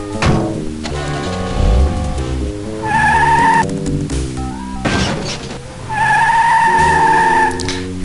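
A cartoon car in the adventure game Sam & Max Hit the Road starts up and drives off, with loud engine revving and squealing tires in bursts alongside game music.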